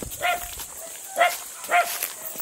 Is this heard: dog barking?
yes